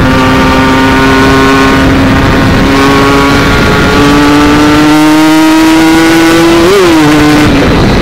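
A Ninja motorcycle fitted with a TM32 carburetor and a standard RIS rumbles close and loud, its engine tone climbing and settling through several smooth revs with a sharp blip near the end.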